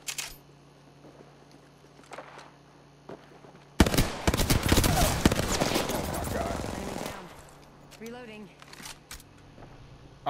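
Gunfire from a battle royale video game bursts out as a dense, loud rattle of rapid shots lasting about three seconds, with quieter clicks and isolated shots before and after and a voice talking briefly.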